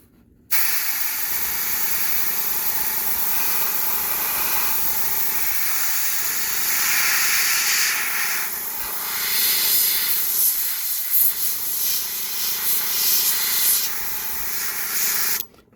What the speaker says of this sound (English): This airbrush works quite nice, gives a nice even flow.